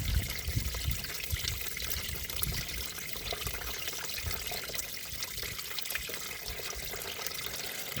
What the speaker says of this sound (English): I'd say it had quite a bit of water in this crankcase.